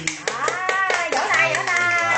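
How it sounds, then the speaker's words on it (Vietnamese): A series of hand claps, sharp and fairly regular, sounds at a baby's first birthday celebration. People talk over them, and a voice can be heard. "Đó, vỗ tay, vỗ tay."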